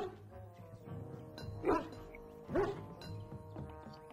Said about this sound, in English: Do you hear that? Dog.